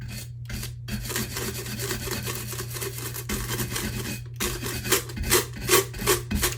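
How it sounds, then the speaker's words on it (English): A scrub brush scrubs a tumbler in repeated rasping back-and-forth strokes, loud and close with no talk, the rubbing growing more rhythmic and punchy toward the end. "Now, I did find my scrub brush."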